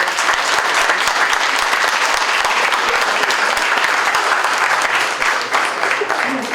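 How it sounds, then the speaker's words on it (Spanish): An audience at an academic social sciences panel breaks into loud, sustained applause, a thick, even wash of clapping from many hands lasting the whole stretch without letting up. "Un fuerte aplauso, por favor."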